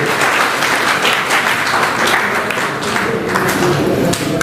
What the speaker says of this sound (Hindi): जोरदार तालियों के साथ तालियां सदन से बाहर जानी चाहिए।